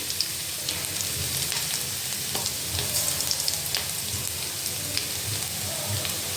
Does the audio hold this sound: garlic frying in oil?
yes